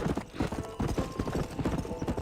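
Horse hooves clip-clopping in Red Dead Redemption, a quick, even run of close, moderately loud hoofbeats with no talk over them.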